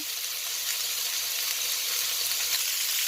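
Pork pata fries in hot oil while browning, a steady, dense sizzle and crackle that holds evenly throughout, close and fairly loud with no talking.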